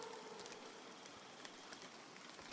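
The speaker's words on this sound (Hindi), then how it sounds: "बारिश अब और तेज हो चुकी थी।" Heavy rain pours down in a steady, dense hiss with no pauses, faint scattered drops and patters standing out, no voices.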